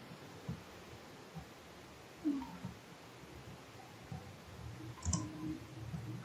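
Faint, isolated keyboard clicks from pressing Ctrl+S to save JavaScript code in a Node.js editor, two or three soft taps over a quiet room hum.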